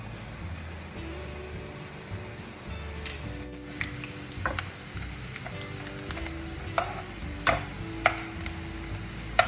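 Noodles frying in oil for American chop suey: steady sizzle throughout, with occasional sharp ticks and clinks from a utensil against the pan, no talking.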